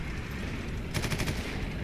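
Gunfire in the Eternal Crusade video game: a short rapid burst of about five shots, fairly loud over a steady background hum, with no speech.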